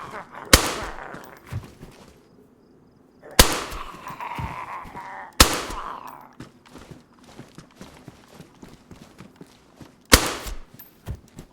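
Sharp gunshot blasts from the video game DayZ ring out at irregular intervals, four loud cracks with quieter clicks and rustling between them.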